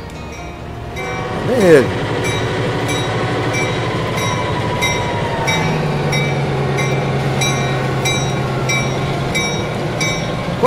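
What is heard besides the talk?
freight train departing in video game Transport Fever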